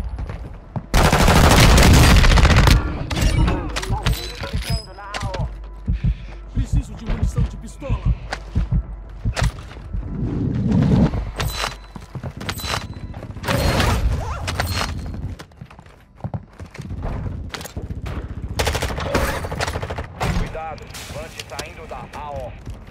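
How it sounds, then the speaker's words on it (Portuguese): Gunfire from the video game Call of Duty: Warzone, loud bursts and scattered shots, one heavy burst near the start then repeated sharp reports, with players talking over the action. "Deu um tiro."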